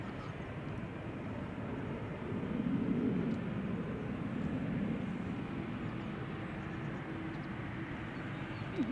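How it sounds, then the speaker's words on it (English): An American Airlines airliner lines up on the runway threshold at Amsterdam Schiphol, giving a steady low engine rumble and broad roar that swell slightly midway, moderately distant. "American Airlines is slowly but surely lining up on the threshold."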